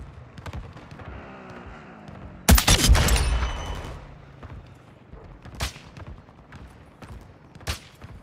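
Video game gunfire during a ground war match: a loud, close burst of shots followed by scattered, fainter single shots and distant reports over the next few seconds, with no talking.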